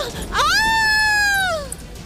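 A woman lets out a single sustained scream of fear, loud and close, holding a high wavering pitch for about a second before trailing off.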